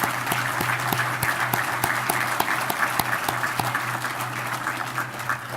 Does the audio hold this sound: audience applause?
yes